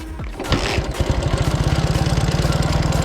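Dnepr MT motorcycle engine, tested on sand in a quarry, starts and settles into a loud, close, rhythmic idle with distinct evenly spaced low firing thumps.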